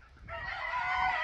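A gamecock rooster on a farm crows in one loud, close, sustained call that swells after a brief quiet start.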